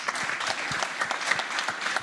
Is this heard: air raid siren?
no